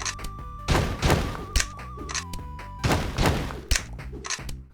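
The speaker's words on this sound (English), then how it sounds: "this time I created a double barrel shotgun core. Lastly, I created an animation and added sound effects," Video game double-barrel shotgun blasts, heavy booming shots fired repeatedly in quick succession with deep thuds, sounding loud and close alongside a game's background music.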